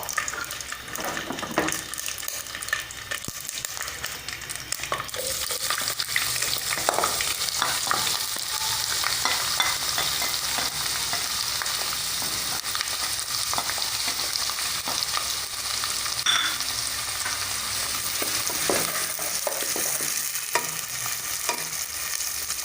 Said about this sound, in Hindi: अब हम प्याज को उस वक्त तक भूनेंगे जब तक कि इसका कलर ब्राउन ना हो जाए।